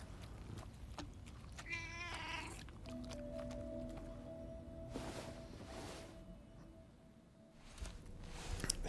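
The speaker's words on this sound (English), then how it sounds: "Ship's cat." A ship's cat in the video game Death Stranding 2 gives a short, quiet meow near the start, set against soft, sustained in-game ambient tones and low background rumble.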